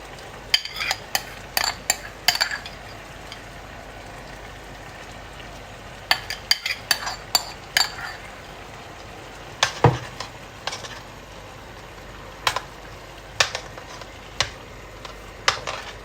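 A spoon stirs mashed potato into a pot of chicken stew, giving repeated short scraping and clinking strokes against the pot in uneven bursts over a quiet background, with no talking.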